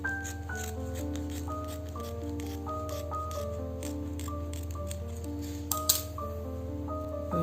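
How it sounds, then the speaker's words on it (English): Scissors snipping through Ankara print fabric during dressmaking, a series of soft close cuts with light clinks and rustles of cloth, without speech. "I'm now going to cut, but I'm going to cut leaving behind half an inch allowance"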